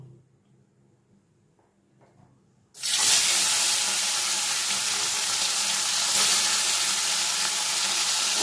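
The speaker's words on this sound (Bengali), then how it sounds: "এবার মাছগুলোকে আমি ভেজে তুলে নেব।" After a near-silent start, fish hit hot mustard oil in a wok and a loud, steady, close sizzle takes over and keeps going without a break.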